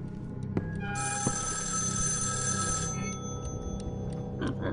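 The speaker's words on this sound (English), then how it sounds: "Ring the phone, apparently." A telephone bell rings in the horror video game Evil Inside, one long shrill electronic ring lasting about two seconds, loud and close over a low ambient drone, followed by faint clicks and a short breath.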